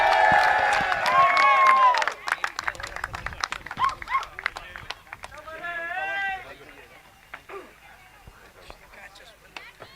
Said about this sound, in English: Huge round of applause once again for Pawan.